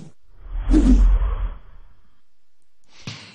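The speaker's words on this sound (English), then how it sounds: "Same whooshing sound that came with Aaron's throw of the rod." A single soft whoosh sweeps through for Aaron's rod throw, swelling and fading within about a second. A faint brief rustle follows near the end.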